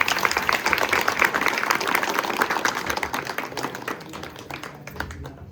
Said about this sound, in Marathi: त्या सगळ्यांनी जोरदार टाळ्या वाजवा